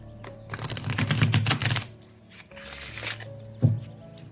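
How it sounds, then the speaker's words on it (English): A Llewellyn tarot card deck is shuffled nearby, giving two quick bursts of riffling, papery clicks separated by a brief pause and then a single sharp tap. "Llewellyn decks are a dream to shuffle"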